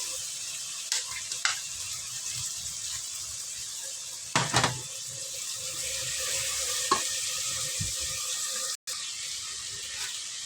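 Steady sizzling of vegetables and potato frying in a pan, with occasional clinks and stirring scrapes, no talking.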